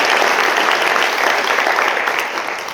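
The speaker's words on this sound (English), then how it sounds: "Quick round of applause for these guys because they crush it" An audience at a real estate investor panel event claps steadily and loudly, the applause fading slightly toward the end.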